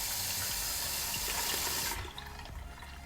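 Water from a kitchen tap runs steadily into a bowl being filled to wash keyboard keycaps, a loud continuous splashing rush that drops to a lighter trickle near the end.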